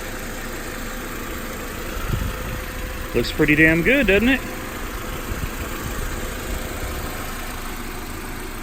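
An Audi car engine idles with a steady low hum under a man's brief remark, fairly quiet throughout.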